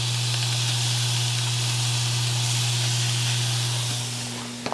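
Shaved steak meat for a Philly cheesesteak sizzles on a flat griddle with garlic, a steady loud hiss over a low constant hum that eases near the end.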